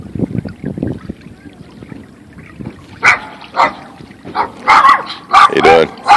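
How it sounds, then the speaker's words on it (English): A dog at a marina barks several times in short, loud bursts, mixed with people talking nearby. "Say hi to the doggy."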